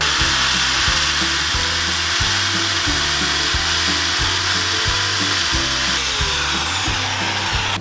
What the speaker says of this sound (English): we're going to use a hammer drill and an 8mm long masonry bit to get through the double brick